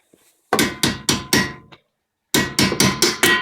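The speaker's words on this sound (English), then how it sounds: "There's my hammer." Metal hammer blows on a Legnum VR4 inner tie rod: four sharp, evenly spaced strikes, a short silence, then five more in quick rhythm, close and loud.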